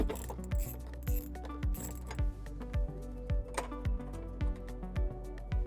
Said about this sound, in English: we're now going to remove this bolt using a 10mm socket